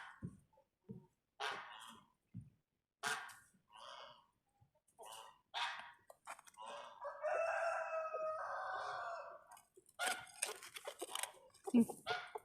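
Backyard chickens cluck and a rooster crows at close range, with several short calls and a longer crow in the middle, mixed in with nearby talking.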